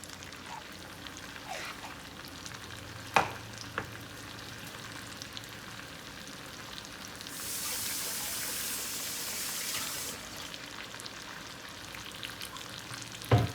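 Okra sizzles and fries in a pan, a steady crackling hiss through the clip with a few sharp clicks and knocks, and a louder, brighter burst of sizzling in the middle.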